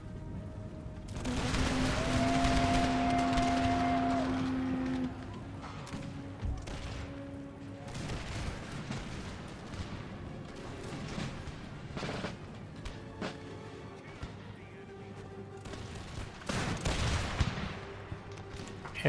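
Volleys of gunfire in the strategy game Empire: Total War, a dense crackling barrage with scattered sharper reports and a low rumble, plus a sustained tonal drone early on, no talk.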